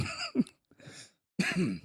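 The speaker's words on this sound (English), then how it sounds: "Sorry, I'm coughing again." A few short throat-clearing coughs, close and fairly quiet, with brief pauses between them.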